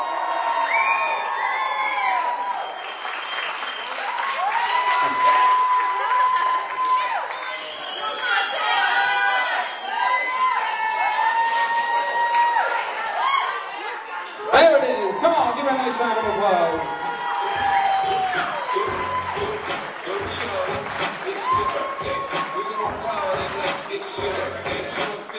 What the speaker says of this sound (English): Give her a nice big round of applause.